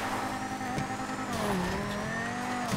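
A car drives in Grand Theft Auto V, its engine droning with pitch sweeps as it shifts and revs, plus a brief tire squeal, steady and close with no talk.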